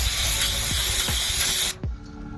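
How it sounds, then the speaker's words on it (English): Brake cleaner sprayed from an aerosol can onto a flywheel part during a 302 engine clutch job, a loud close hiss lasting under two seconds that cuts off sharply, followed by a faint clunk. "Just brake clean this off a little bit."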